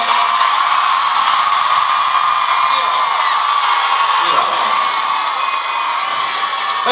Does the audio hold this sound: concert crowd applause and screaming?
yes